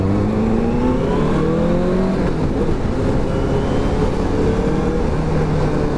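A Benelli TNT600i roadster's engine revs up and down while riding, pitch climbing in strong sweeps then easing, loud and close over wind and road noise, with no voices.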